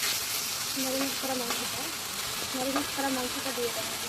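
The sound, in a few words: duck meat masala frying and being stirred in pan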